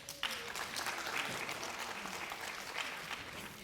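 Audience applause at a school district literacy competition for kindergarten read-aloud participants and the winner, steady clapping from a crowd sustained for several seconds after a sharp start.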